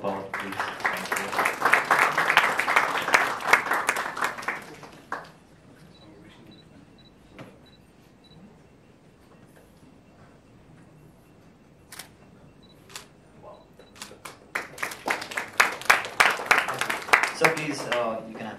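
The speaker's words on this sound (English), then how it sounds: "A round of applause, please." Audience applause at a youth-wing industry event, a dense burst of clapping for about five seconds that fades to near silence, then a second round of clapping swells back up toward the end.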